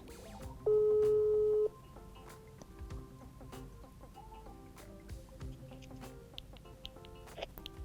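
An outgoing phone call to a mother rings with one loud, steady ringback tone lasting about a second, followed by quieter, busy background sounds.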